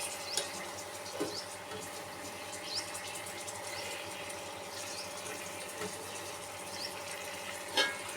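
Chopped coriander and mint sautéing in a pan for Hyderabadi biryani, a quiet steady sizzle with occasional soft stirring scrapes, close and low in level without talking.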